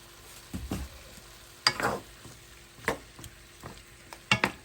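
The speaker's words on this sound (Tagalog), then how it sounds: "So we have to simmer it until the water is gone and also the oil of the pork belly is out" Pork belly adobo in a pan, simmering down so the water cooks off and the fat renders, with intermittent stirring scrapes and spatters over a faint steady sizzle, loud close bursts spaced a second or so apart.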